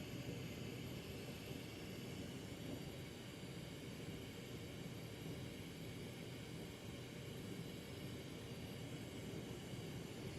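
A glassblowing torch flame, the hot afterburner used while forging a tulip form, roars steadily and loudly without a break, a dense constant rush with no voices over it.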